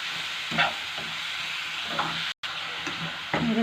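Chili sauce being stirred into vegetables frying in a pan for vegetable noodles: a constant sizzle broken by several scraping strokes of the spoon, a brief dropout near the middle, and no voices.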